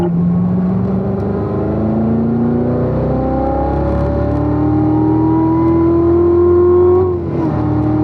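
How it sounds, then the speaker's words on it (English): A car engine pulls hard under full throttle, its tone rising steadily through the revs before a brief dip at a gear change, loud and close from inside the cabin. "Off the brake smoothly, get it turned, start adding the throttle to the floor."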